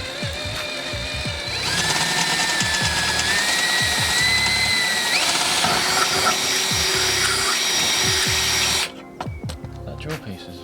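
A power drill with a larger bit whines steadily as it bores through metal on a Ford Fiesta, loud and close, with the motor pitch shifting before it cuts off near the end.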